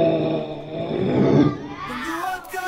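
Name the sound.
crocodile sound effect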